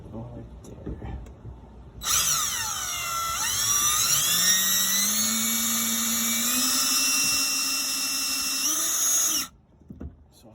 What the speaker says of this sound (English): So let's go ahead and drill it.